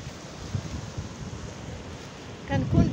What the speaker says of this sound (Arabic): حبيت نهديكم صوت هذه الامواج ونهديكم هذه الامواج الجميلة الهادئة